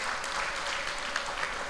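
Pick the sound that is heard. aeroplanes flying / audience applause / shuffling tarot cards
audience applause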